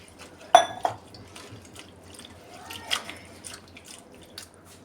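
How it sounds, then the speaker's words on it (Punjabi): Amaranth greens (chalai) are washed by hand in water. A sharp splash and clink of a bowl opens, followed by softer sloshing, swirling and dripping at close range, with no talking. "ਤਿੰਨ ਚਾਰ ਵਾਰੀ ਇਹਨੂੰ ਪਾਣੀ ਨਾਲ ਚੰਗੀ ਤਰ੍ਹਾਂ ਧੋ ਲੈਣਾ"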